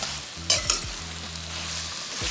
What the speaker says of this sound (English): So keep stirring the ingredients.